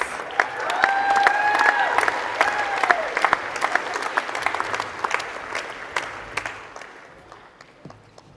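A graduation ceremony audience claps steadily, a dense patter of many hands that gradually thins and fades, with a few whoops early on.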